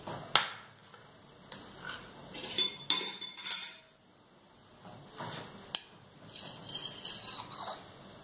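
A knife and fork clink against a dish while a piece of baked rabanada, a Brazilian French toast, is cut. There are several sharp metallic taps and scrapes at close range, spaced unevenly, with no voices.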